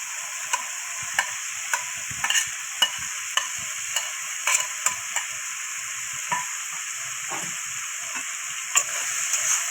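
Potato and eggplant sizzle in a hot pan while a spoon stirs them, a constant frying hiss broken by regular sharp scraping clicks, close up.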